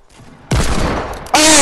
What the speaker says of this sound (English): What the hand cannon was that?